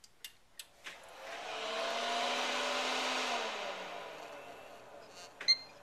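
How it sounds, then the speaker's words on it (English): A computer power supply wakes up after a few clicks, giving a rising, whooshing fan roar that holds steady for a few seconds and then fades. A sharp click follows near the end. "That's the noise of the power supply when it wakes up."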